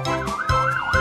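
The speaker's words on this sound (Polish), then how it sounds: "No i to jest głośna syrena!" Loud cartoon siren wailing up and down in smooth repeated sweeps, close and continuous, with brief low thumps beneath it.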